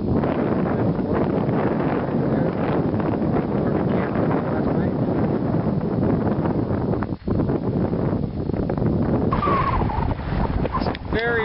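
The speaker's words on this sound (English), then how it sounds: "Very stiff winds on top of the Cinder Cone here." Strong wind on top of the Cinder Cone in Lassen Volcanic National Park buffets the microphone in a steady, heavy roar with surging gusts, loud and constant throughout.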